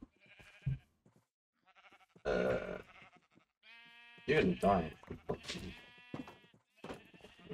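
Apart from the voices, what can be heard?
sheep bleating in the video game Minecraft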